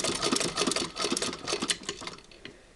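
A 1937 sewing machine runs in reverse, its needle clattering in a fast, even mechanical rhythm close by, then slowing and winding down at the end, with no voices.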